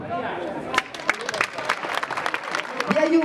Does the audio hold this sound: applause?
yes